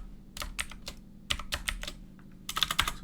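Typing on a computer keyboard, with irregular clusters of close, crisp key clicks separated by short pauses and a quick flurry of taps at the end.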